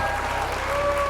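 A church congregation applauds steadily during a sermon, a brief wash of many hands clapping at even loudness, with sustained tonal organ or keyboard notes underneath.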